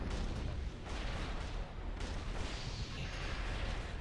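Cannon fire in a World of Warcraft gunship battle, heavy rumbling blasts and booms layered into a dense continuous roar of combat noise throughout, fairly quiet overall.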